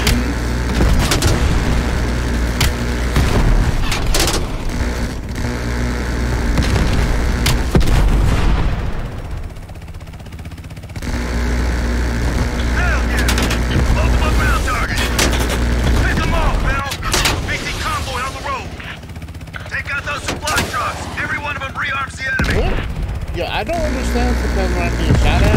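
Gunfire and explosions from a Call of Duty Cold War campaign mission, with loud repeated booms and bursts of shots running throughout, mixed with game voices and a player talking over them.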